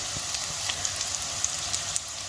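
Carrots with snow peas and baby corn frying for a seafood chop suey, a soft steady sizzle with faint scattered pops and light stirring, quiet and close.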